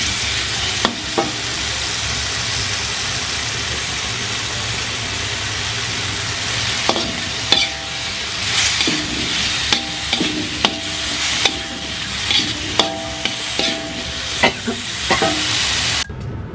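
Something dry-roasts in a pan while being stirred, giving a steady dry rustling hiss broken by sharp clicks and scrapes of the utensil against the pan, close and fairly loud throughout.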